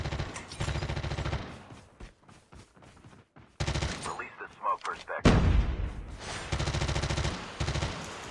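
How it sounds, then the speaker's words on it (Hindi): Rapid automatic gunfire rattles in loud bursts in a mobile battle royale game, with single shots and a heavy blast between sustained volleys and no talking. "ये अंधाधुंधी गोली चला रहा है ना, अंधाधुंध धुएं में गोली चला रहा है।"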